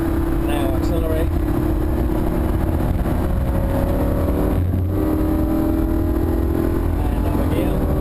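A Lamborghini Huracan accelerates on a race track, its engine a loud continuous roar that rises in pitch, mixed with heavy wind rumble.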